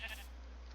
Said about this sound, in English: I'm just standing here amidst sheep,